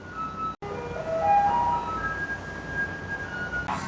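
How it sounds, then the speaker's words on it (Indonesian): Garbage truck in Taiwan rolling by with its melody sounding, a clear tonal jingle drifting over continuous traffic noise, fairly close and steady, without speech. "Nah, itu suara mobil sampah ya."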